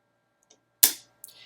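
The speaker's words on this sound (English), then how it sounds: "You can hear the switch switching in the background there." A selector switch on an Arduino Yun stepper motor setup gives a faint tick, then one sharp loud click followed by a lighter snap, isolated clicks in a quiet room.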